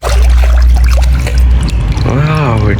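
Water pours and trickles loudly over a small toy dinosaur held close during a toy-washing session, a steady splashing stream, with a voice briefly heard near the end.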